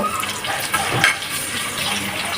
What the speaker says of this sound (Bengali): একটু রান্নার রেগুলার তেল দিয়েছি এবার একটু পেঁয়াজ ভেজে নিব